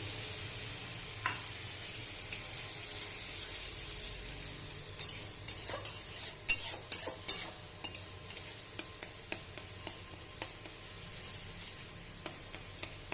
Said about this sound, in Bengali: ছানাটা আমি ভালোভাবে কষিয়ে নেব।